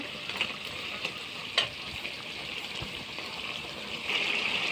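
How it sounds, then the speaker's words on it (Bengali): Desi chicken meat being sautéed in a pan, a continuous soft sizzle with occasional stirring scrapes and a small clink, quiet and steady throughout with a slight rise at the end. "মাংসটা আমার ভালো করে কষিয়ে নেওয়া হয়ে যাচ্ছে"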